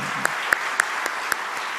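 A church seminar audience applauds briefly, with dense hand clapping and a few louder individual claps standing out, heard at a steady level from across the room.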